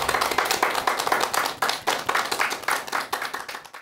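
A lecture audience claps to welcome an author onto the stage, a close, lively burst of hand-clapping with uneven rhythm that fades out at the end.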